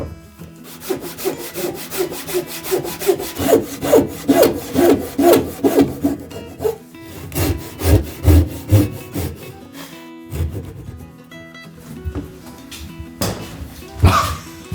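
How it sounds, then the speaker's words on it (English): A handsaw cuts a Hinoki cypress plank in steady rhythmic strokes, each one rasping through the wood. Several short pauses break the sawing, along with an occasional cough or throat clearing. "Unless the handsaw is warped, it can be cut straight if the wood is good quality,"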